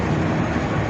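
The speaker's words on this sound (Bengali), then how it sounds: "ট্রেনটা চলে যাচ্ছে।" A local train pulls out of Nashratpur railway station in Bangladesh, a loud, steady, broadband rumble filling the moment without any break.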